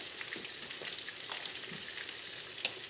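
A salmon dish being stirred in a hot pan, soft continuous sizzling with light scraping strokes and a small clink near the end.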